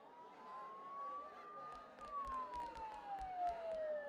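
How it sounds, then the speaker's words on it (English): A siren in the video game Persona 4 Golden wails in a slow rising then falling tone at moderate distance, with scattered clicks and thuds around it. "Don't those sirens sound really close?"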